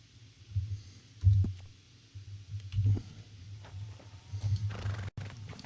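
A horse in Red Dead Redemption 2 neighs and whinnies while its hooves clip-clop along, the steps spaced and rhythmic at moderate volume, with no talking.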